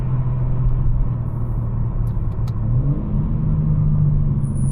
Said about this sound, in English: See if I can give you some downshift sounds